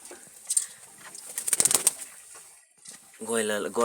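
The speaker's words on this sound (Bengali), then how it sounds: "তো রানিংয়ে কিছু কবুতর দেখাচ্ছি" Pigeons kept in a coop flap their wings in quick bursts with faint cooing, close by, followed by someone speaking.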